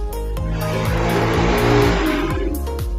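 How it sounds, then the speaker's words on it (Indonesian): A motorcycle passes by close, its engine droning loudly with rising and falling pitch throughout, steady and continuous with no talk. "suara motor"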